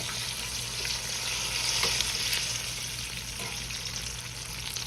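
Homemade blueberry fried pies sizzle in hot oil with a steady, soft bubbling hiss, with a few faint clinks as a fork flips them over.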